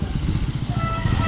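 A motorcycle engine idles nearby with a low, pulsing, steady chug throughout the short moment.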